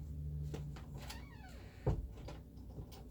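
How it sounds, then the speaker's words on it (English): A door pushed shut in a home, giving a single soft thud near the middle of a short stretch of quiet room noise, with a few faint knocks before it. "can you close the door all the way, please?"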